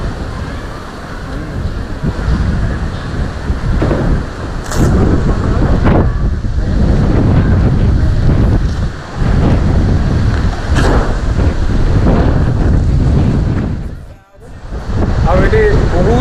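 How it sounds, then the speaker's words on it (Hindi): Strong wind buffets the seaside at Tampara, roaring continuously against the microphone in loud gusts with surf-like rushing and a brief lull near the end, and a voice talks faintly beneath it. "ଭୟଙ୍କର ପବନ ବହୁତ ଜୋର ସେ ପବନ ଅଛି।"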